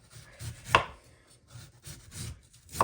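A knife cuts through a mango on a board in a few irregular strokes, with one sharper tap near the middle and another at the end.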